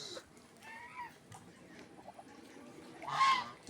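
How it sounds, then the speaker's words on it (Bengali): A pair of Chinese geese, a male and a female, give a few short honking calls, with one brief call early on and a louder one near the end, over quiet background. "চীনা হাঁস, এক জোড়া চীনা হাঁস।"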